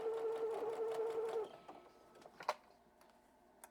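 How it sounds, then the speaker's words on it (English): A sewing machine stitches a pillow cover, a steady buzzing whir for about a second and a half that then stops, followed by a few faint clicks and taps. "So I'm just going to start and back stitch and just sew the entire top 3 pieces."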